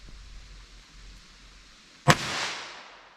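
A single sharp, loud crack from a .22 rimfire rifle at an outdoor shooting session with a chronograph, the close report followed by a short decaying tail after quiet background.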